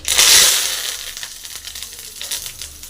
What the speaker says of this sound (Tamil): கடுகு பொரிஞ்சிச்சு அடுத்து பாருங்கள் கரவலை போட்டுடலாம்